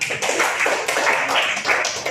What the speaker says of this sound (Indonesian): Sangat menyenangkan, tepuk tangan.